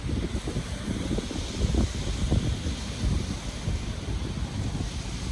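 Wind gusts steadily across an outdoor lakeside path, making a loud continuous rumble and buffeting on the microphone with no voices.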